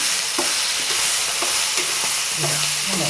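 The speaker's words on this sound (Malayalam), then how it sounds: "ഇനി വെളുത്തുള്ളി ഇഞ്ചി പേസ്റ്റ് നമുക്ക് ചേർക്കണം" Garlic ginger paste fries in a pan with a loud, constant sizzle. Rhythmic scraping stir strokes, roughly one every half second, cut through it with no talking.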